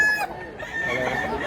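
Roosters and chickens cluck and crow close by at a busy poultry market in Mantalungon, Cebu, with other animal noise and faint background voices.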